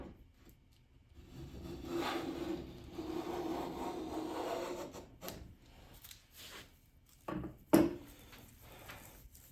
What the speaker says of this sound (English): I'm getting very nice shaving off the Stanley.